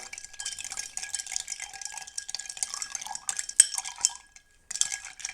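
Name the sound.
stirring a Scotch and amaretto Godfather cocktail in a glass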